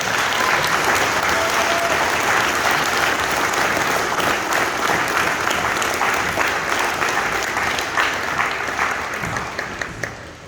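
Sustained, loud audience applause fills a school gym during a Veterans Day program, steady throughout and tapering slightly at the end.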